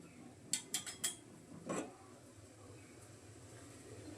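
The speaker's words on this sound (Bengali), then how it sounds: "কড়াইটা বসিয়ে দিলাম" A metal kadai lands on a gas stove in a home kitchen, three quick clinks close together followed by a softer scrape, faint and alone against quiet room tone.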